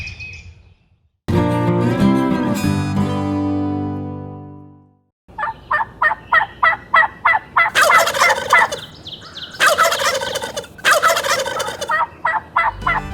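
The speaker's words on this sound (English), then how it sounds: "The wild turkey has a unique language all its own, and they can be quite vocal" A wild turkey gobbles loudly and close in a rapid rattling burst, followed by a series of sharp, evenly spaced yelping calls and another rolling gobble, with no one talking.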